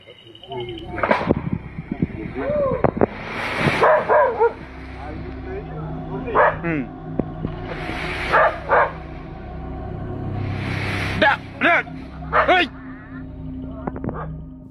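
A frightened dog barks and yips repeatedly in bursts outdoors, with whimpering between them, while a person talks at times over the scene.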